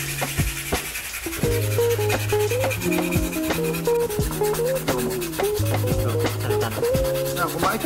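Sandpaper rubbed by hand over painted car parts, a steady scratchy back-and-forth rasp close up and continuous, under a backdrop of music.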